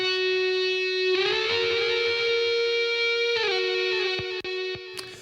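A music track plays steadily with sustained tonal layers and a basic D-verb reverb on an aux channel, stopping abruptly near the end and leaving a few sharp clicks as playback is halted.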